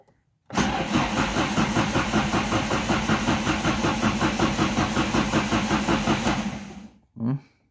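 An Opel C20NE engine with a misfire problem cranks over with a steady, rhythmic starter churn for about six seconds, then cuts off abruptly, followed by a brief voice.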